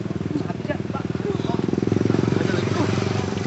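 A motorcycle engine idles with a steady rapid putter, a voice talking over it.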